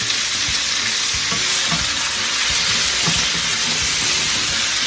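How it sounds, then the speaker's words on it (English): Thinly sliced meat for chopsuey frying in a hot pan, a loud, steady sizzle and hiss close by with occasional stirring knocks and scrapes. "And then you're gonna cook in your meat."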